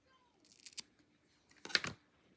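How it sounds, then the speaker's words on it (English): Scissors snip acrylic yarn tails off a crocheted granny square: two short, close, crisp cutting bursts separated by a brief quiet pause, with no talk. "now you can just go ahead and snip these tails."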